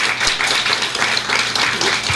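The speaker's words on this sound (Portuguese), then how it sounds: "pedindo que recebam com uma salva de palmas, calorosamente" Audience at a union lecture series applauding a guest speaker, a dense steady patter of many hands clapping throughout, moderately close and loud, with no talking.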